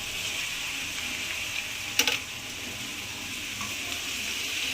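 Vegetarian chow mein noodles sizzle in a hot pan, a steady bright frying hiss with one brief clatter near the middle, close and continuous with no talk.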